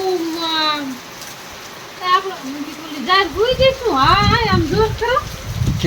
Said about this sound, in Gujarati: વરસાદ થઈ જાય